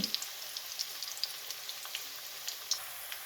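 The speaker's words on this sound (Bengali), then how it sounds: "পেঁয়াজটাকে আমি একটু হালকা ভেজে নেব হালকা বাদামি কালার করে ভেজে নেব" Onions frying lightly toward light brown in a pan for potato and fenugreek greens, a faint, soft sizzle with scattered tiny crackles throughout.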